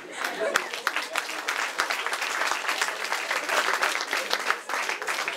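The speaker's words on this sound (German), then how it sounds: "Der Applaus gilt den Korrekturlesern." An audience applauds the proofreaders with lively, uneven clapping that swells and dips, individual sharp claps standing out near the microphone, and some voices audible under it.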